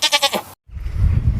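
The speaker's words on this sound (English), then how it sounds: "and goat bleat." Farm animal bleating, sheep or goat, sounds in rapid wavering pulses for about half a second, then breaks off into a short silence followed by low rumbling background noise.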